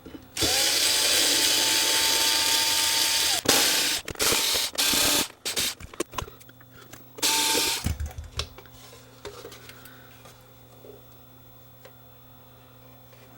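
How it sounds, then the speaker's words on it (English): Cordless power tool driving screws out of the metal case of a no-name hot air rework station, with loud continuous whirring bursts and stop-start ratcheting, then quieter handling clatter. "Why turn screws by hand? We have power tools for that."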